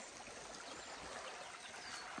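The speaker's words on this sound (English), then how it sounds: "Let's have a little look at the river." A river running along the Carey Burn hill walk, heard as a steady, faint wash of flowing water with no voices and no distinct splashes.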